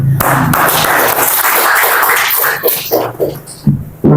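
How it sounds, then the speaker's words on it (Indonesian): Applause at an Islamic munaqosyah exam ceremony in Cirebon, a short burst of clapping close by that thins out and turns patchy toward the end, with voices mixed in. "tepuk tangan dulu"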